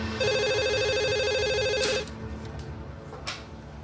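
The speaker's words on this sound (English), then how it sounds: "A man enters the phone booth and dials a number." A telephone call placed from a phone booth rings out loud and close, a steady electronic ringing tone for about two seconds before cutting off, followed by quieter clicks and handling noises.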